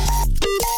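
A bleep sample pitched down into a distorted, 808-style sub tone, heard as a short, heavy electronic burst with a falling pitch, loud and alone.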